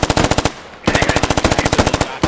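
Rapid machine-gun bursts in a mechanized infantry assault video game, loud and close, with a brief pause before another sustained burst of evenly spaced shots.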